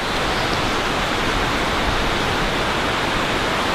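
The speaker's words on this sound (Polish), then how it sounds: "Co tam jest ta rzeka, przy której zaczynałem tą ścieżkę, jest bardzo głęboko też tam na dole." Broadband rushing water from a river far down in a deep gorge below a steep mountain path in rural Japan, a steady, continuous roar with no breaks and no voices.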